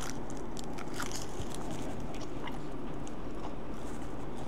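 Close, crisp crunching and chewing of chocolate with a crispy sisig filling, steady and continuous with no talking.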